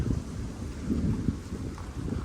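Rolling thunder from a storm near a campervan rumbles low and continuous, with rain and wind noise filling the background.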